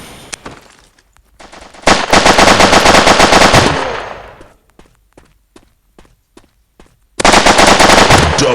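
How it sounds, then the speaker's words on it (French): Gunfire in the MaskGun mobile first-person shooter, with a shotgun in use: loud, dense volleys of rapid shots lasting about two seconds, then scattered single shots and footsteps, then another sudden heavy burst, with no talking. "le fusil à pompe, ça fait tellement mal"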